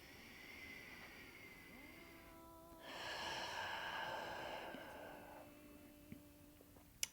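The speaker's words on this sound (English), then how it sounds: "I'm going to take a breath." A slow, deep breath drawn in and let out during a gentle neck-release exercise, a soft airy swell in a quiet room with no talking.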